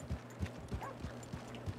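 Horse hooves clip-clop in a video game, a quiet, steady rhythm of soft hoof beats at walking pace, with no talking.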